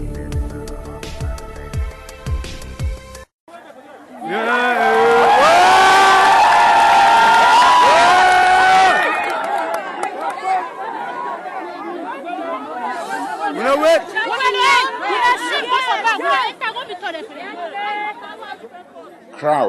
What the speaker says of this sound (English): Crowds cheering Amber Boys in Batabo on Saturday as they held an impromptu rally in the heart of the city.